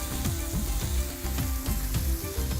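Finely chopped onion with a pinch of cumin seeds frying in hot oil, a steady close sizzle with soft rhythmic stirring scrapes repeating throughout, no voices.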